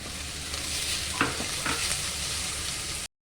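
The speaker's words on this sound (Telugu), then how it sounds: "నేను విరగ్గొట్టిన పన్నీర్ను వేసుకుంటున్నాను." Crumbled paneer sizzles and fries in a pan for a milk paneer curry, with a steady sizzle and a couple of brief stirring scrapes.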